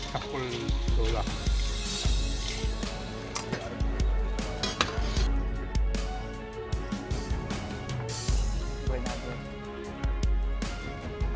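Pots, a saucepan and cutlery clink and clatter through a busy professional cooking competition kitchen, with faint sizzling and steady rhythmic knocks beneath music and distant talk.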